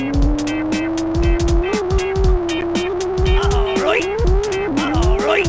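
A remote-controlled car drives and spins around a house and up a table in an Atari video game, its steady electric whine rising and swooping over repeated thumps and game music, with a voice talking throughout.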